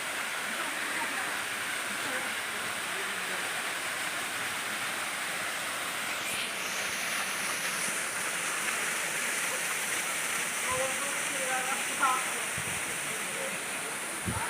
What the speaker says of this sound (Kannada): ನೋಡಿ ವಾಟರ್ ಫ್ಲೋ ಹೆಂಗಾಗ್ತಾ ಇದೆ.